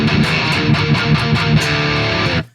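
An electric guitar tuned to D standard roars through a Nutcracker high-gain amp with its ultra tight switch engaged, playing loud, tight, rhythmic palm-muted chugs that cut off sharply at the end.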